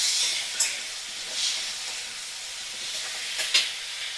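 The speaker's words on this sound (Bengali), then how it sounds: "এবারে মিডিয়াম ফ্লেমে রেখেই আমি মশলাগুলো দিলাম আর কষিয়ে নেব" Spices fry over a medium flame in a pan for a vegetable and fish curry, a soft hissing sizzle with a few brief scrapes and stirs rising above it, close by and without speech.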